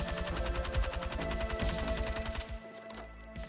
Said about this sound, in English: So if I were to fire the gun like this